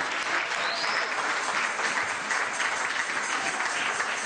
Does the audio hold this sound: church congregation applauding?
yes